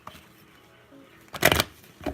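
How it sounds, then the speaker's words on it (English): A small child riffles through a deck of playing cards, a brief loud papery flutter followed by a softer second flick, close and mostly alone. "she thinks she can shuffle cards already"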